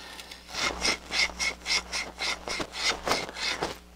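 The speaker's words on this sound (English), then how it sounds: "I'm just gonna take a scour pad and remove whatever rust I can" A scour pad rubs rust off the shaft of an EBM Papst RG-130 blower motor in quick rhythmic back-and-forth strokes, about a dozen harsh scrubbing passes, close and fairly loud, with no talking.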